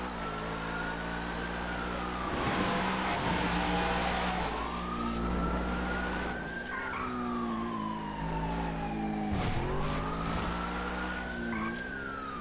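In a video game, a police car races at speed through a tunnel in pursuit, its siren wailing in repeated rising and falling sweeps over a steady, close engine drone.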